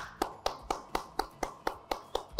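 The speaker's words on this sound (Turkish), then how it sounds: "Alkışlıyoruz ve kutluyoruz onları" Studio audience applause on a TV fashion competition show, heard as a steady run of about ten evenly spaced claps close by, with no talking.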